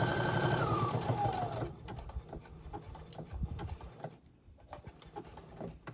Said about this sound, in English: I've got it on my zigzag stitch, and I'm just going to hold it in place, and I'm going to zigzag all the way around this square